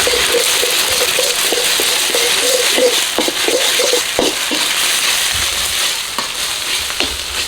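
Crab fried rice sizzling and stir-fried in unsalted butter, with a loud, steady frying hiss and rhythmic scraping and stirring throughout.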